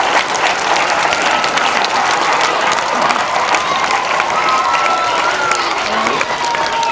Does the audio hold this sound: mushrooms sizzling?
no